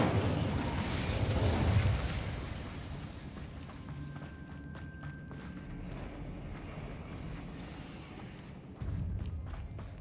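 In Hogwarts Legacy, an Incendio fire spell bursts with a loud, rumbling blast at the start, then fades into a lingering low roar and crackle with the game's background sounds.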